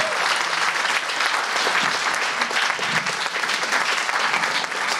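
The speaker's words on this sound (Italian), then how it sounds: "ve lo chiedo veramente di rifare un applauso a queste" Steady, full audience applause fills the room at a library reading-group event presenting Ghirlande 2020, honouring seven presentations; dense clapping holds at an even level throughout without a break.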